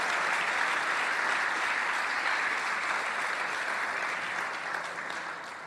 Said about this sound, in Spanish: me gustaría que podamos dar un aplauso a todos aquellos que siguen nuestras transmisiones